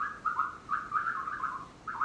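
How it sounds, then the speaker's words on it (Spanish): Small birds sing outdoors in short, repeated whistled chirps and trills that come in bursts with brief pauses, moderately loud against a quiet background. "Miren los pajaritos cantando."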